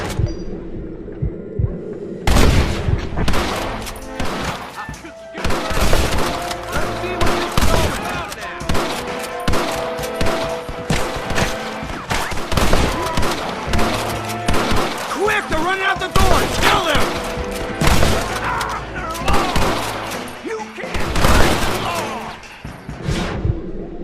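A dense, sustained gunfight against snipers in windows in the video game Red Dead Redemption, with overlapping gunshots and bursts of fire cracking close and loud for over twenty seconds amid a busy game soundscape.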